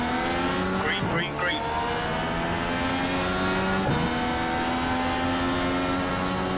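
Dallara Dash race cars roar off the start at Charlotte Motor Speedway in iRacing, a loud, dense engine drone of several cars with rising revs and gear shifts throughout.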